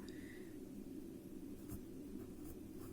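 Faint scratching of a pen working out an interest math problem on paper, soft and continuous beneath a steady low hum of room noise.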